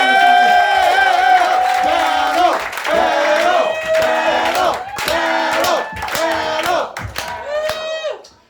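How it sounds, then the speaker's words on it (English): A comedy roast audience cheers and whoops with clapping, a dense, loud crowd roar that pulses in waves and fades out at the end. "I cannot hear you. Clap it up."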